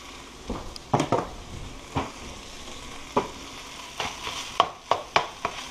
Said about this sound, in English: Don't be alarmed if the sizzling stops, your heat is still high enough.